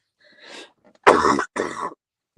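A person who has just smoked weed clears their throat and coughs: a short rasp, then two harsh, close coughs, alone with no other sound around them.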